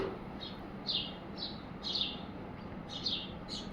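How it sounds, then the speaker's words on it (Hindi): Small birds chirp at a window feeder, bright short tweets repeating in irregular bursts of one or two calls over a steady background hiss. "ये देखिए कितनी अच्छी चिड़िया चहक रही है ना"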